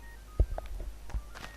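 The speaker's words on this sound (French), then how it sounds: "Désolé pour le téléphone." A few soft telephone keypad tones and electronic blips sound faintly over a low background, with a couple of sharper knocks, and no one speaking.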